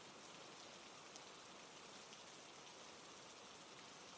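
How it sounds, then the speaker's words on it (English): Heavy rain falling on a roof during a storm, a dense, steady hiss of countless drops with no pauses, faint and distant-sounding, with no voices present. "The rain started again."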